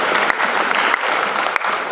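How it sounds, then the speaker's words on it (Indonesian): A school audience at a student Pancasila profile project session applauds a speaker, close and loud continuous clapping with sharp individual hand claps standing out. "Tepuk tangan dulu Wahyu"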